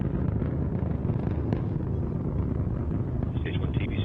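Antares rocket engines at full thrust during ascent, a dense continuous broadband roar with heavy low rumble, steady and loud throughout.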